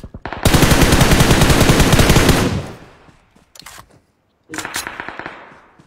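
Loud automatic gunfire from the PUBG Mobile video game: a sustained close burst of rapid shots for about two seconds, then a short pause, a brief second burst, silence, and another rapid volley.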